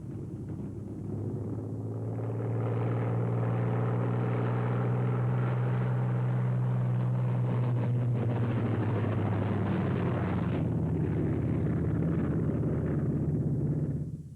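A World War II P-47 Thunderbolt fighter taxiing out with a deep, steady radial-engine drone that swells and stays loud and near for several seconds before easing off, with no talk over it.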